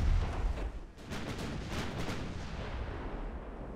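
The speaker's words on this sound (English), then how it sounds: "Two more torpedo hits." Torpedo hits burst against a battleship in a naval warfare video game, a heavy boom up front followed by crackling rumble and a few sharp secondary blasts fading into a long roaring tail.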